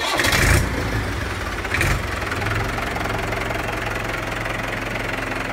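A Mahindra 475 DI tractor's diesel engine cranks and catches, with a second brief surge, then settles into a steady, rough, loud idle rumble close by.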